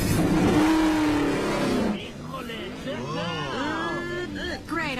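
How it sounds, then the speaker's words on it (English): Several race car engines fire up and rev, a loud, dense roar at first that thins into rising and falling whines as the cars pull away, heard under a lot of excited voices. "Gentlemen, start your engines!"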